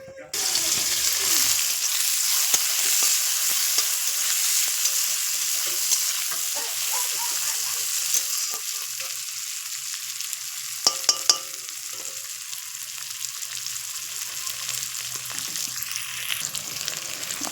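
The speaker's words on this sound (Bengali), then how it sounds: "দুটো শুকনো লঙ্কা ভেজে নিচ্ছি" Dried red chillies frying in oil in a home kitchen pan, a steady close crackling sizzle over many seconds, with scattered scrapes of stirring and a few sharp knocks midway.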